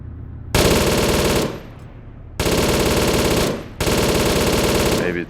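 Three sustained bursts of automatic machine gun fire in the ARMA 3 military shooter game, loud and close, separated by short pauses with fading echoes, no talk.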